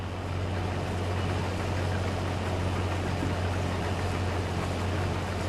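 A combine harvester idles in the Farming Simulator video game, a steady low engine drone with a strong humming tone that runs unbroken and loud throughout, with no talk over it.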